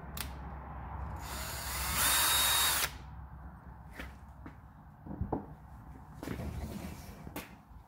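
Power drill boring a hole with a 16mm spade bit while building a jig for oyster farming baskets, a loud whining burst of about a second, then quieter clicks and knocks as the tool is handled.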